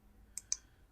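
Two quick, crisp mouse clicks sound close and quiet, a fraction of a second apart, as the load button is pressed in Siemens TIA Portal software, against near silence.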